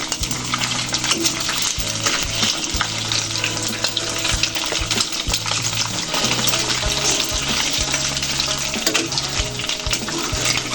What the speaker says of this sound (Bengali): ডিমটা ভালো করে ভেজে নিতে হবে লাল লাল করে ফেলবো